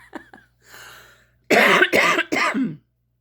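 A person recovering from COVID coughs hard, a few small throat sounds first, then three loud, rasping coughs in quick succession close to the mic.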